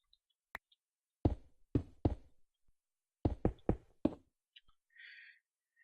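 Blocks knocked out one after another in a Minecraft game: sharp, close knocks in two quick clusters of three and four, with faint ticks between and a soft chime near the end.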